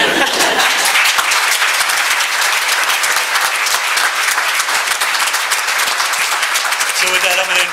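A large conference audience at an ALS leadership summit claps continuously, a dense, loud and steady wash of applause that runs unbroken from start to finish.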